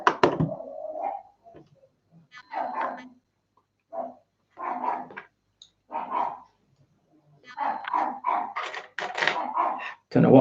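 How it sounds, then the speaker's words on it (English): A dog barks downstairs in short, repeated bursts with pauses between, some whimpering, coming through clearly in an otherwise quiet indoor room. "Don't know what the dog is barking at downstairs, but he's pretty annoyed."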